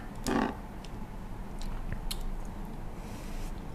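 Close, wet, squishy chewing of a jumbo oyster eaten with leucaena greens: one soft bite and then steady mouth sounds, with no talking.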